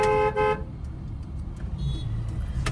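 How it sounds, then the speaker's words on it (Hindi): A car horn gives a loud double honk in slow-moving market traffic, followed by the low rumble of the idling car and surrounding road noise. "हॉर्न।"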